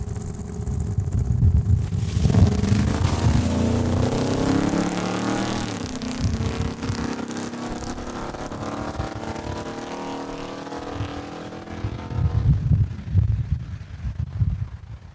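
A junior dragster at Saskatchewan International Raceway roars off the line during qualifying time trials, its engine rising in pitch as it pulls down the drag strip and fades with distance, before a second loud burst near the end.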